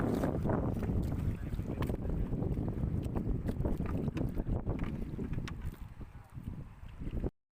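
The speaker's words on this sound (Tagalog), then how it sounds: "At lumakas na naman ngayong hangin dito banda guys" Strong wind buffets the microphone in a constant roar with gusty rumbling, sustained for several seconds before cutting off.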